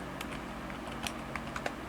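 Light typing on a computer keyboard while entering a command, with sparse, quiet key clicks spaced irregularly over a steady background hum.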